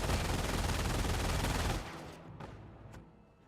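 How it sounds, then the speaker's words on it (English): Machine gun fire from a bunker in the real-time strategy game Company of Heroes, a dense continuous rattle of rapid shots that breaks off after about two seconds, leaving a few scattered distant reports fading out. "got the rifle squad being suppressed by the MG bunker."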